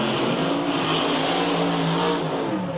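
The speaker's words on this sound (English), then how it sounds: "they're now fired and they're ready to go down here, get these tires nice and warm" Drag race cars fired up and warming their tires on the concrete at Labatt Raceway during the 1999 Snap-On Tools Hot August Night event give a steady, loud, close engine roar with no letup.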